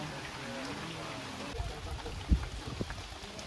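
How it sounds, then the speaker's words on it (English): Heavy rain pours down outdoors up in the hills in Jamaica during a funeral cookout, a steady broadband hiss with a few low thuds and a sharper knock near the end, close and fairly loud. "Rain start fall, everybody have your shelter"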